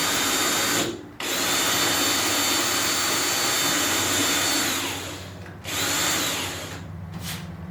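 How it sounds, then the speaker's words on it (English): A loud, steady power drill whines continuously, pausing briefly twice as it match-drills number 40 holes through metal on an RV-7A aircraft canopy, with no talking. "we will again match drill the number 40 holes to final size"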